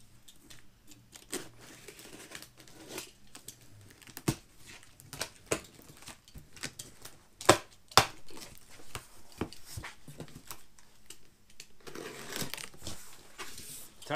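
A blade slices open the cardboard packaging around a new set of Hyper Silver BMW E60 wheels, with crunching, tearing and crinkling, a few sharp knocks, and handling noise throughout.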